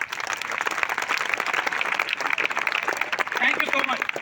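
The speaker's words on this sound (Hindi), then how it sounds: "एक बार जोरदार तालियां आप अपने लिए बजा लीजिए" Audience at a business meeting applauding loudly, dense rapid clapping filling the room steadily from start to end with voices mixed in.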